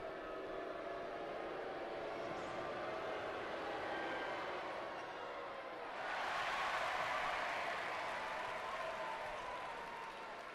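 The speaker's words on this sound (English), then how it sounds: "you can tell by the ovation from the crowd" A basketball arena crowd during an NBL Canada game between the Edge and the Titans murmurs at moderate volume, then erupts into a louder swell of cheering and applause partway through that stays steady to the end.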